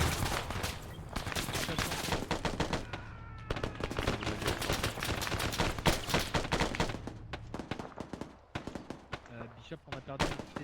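A mounted rooftop turret fires in Arma 3 during a military simulation mission set in Fallujah: loud, rapid bursts of repeated shots, close and sustained, with brief pauses, mixed with other weapon fire and occasional talk.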